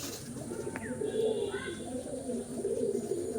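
A two-eyed pigeon cooing close by, soft low repeated coos over a constant background hum, with a couple of faint higher chirps early on and no talking.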